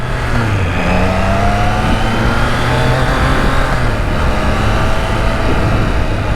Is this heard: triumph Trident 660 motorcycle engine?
yes